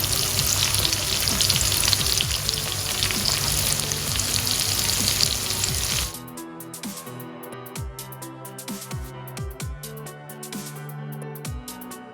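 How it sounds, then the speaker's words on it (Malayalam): Netholi anchovies deep frying in hot oil for a crispy fish fry with green chillies, a loud, dense crackling sizzle for about six seconds that then drops to a quieter, sparser bubbling with scattered pops. "ഇപ്പം നമുക്കിതിലൂടെ വറുത്ത് കോരിയെടുക്കാം."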